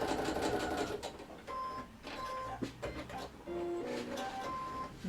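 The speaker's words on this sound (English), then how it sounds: "So we're just going to put a couple of stitches in here." A sewing machine stitches a jelly bean bag in several short, rapid bursts broken by brief pauses, loud and close with a mechanical whir.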